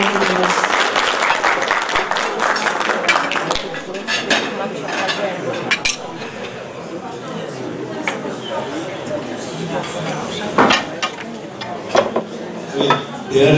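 An audience at an event on infertility treatment applauds to welcome a general surgeon onto the stage. Dense, sustained clapping mixes with crowd chatter and a voice speaking over it.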